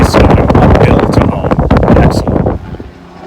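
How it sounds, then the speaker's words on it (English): Strong wind buffets a runner outdoors, loud gusty roaring and rumbling close to the microphone before it abruptly drops to a quieter rush near the end. "This wind is brutal"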